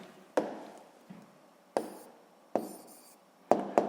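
Pen or chalk writing down an answer to a physics problem, short scratchy strokes with sharp taps at each start, four or five close bursts separated by brief pauses.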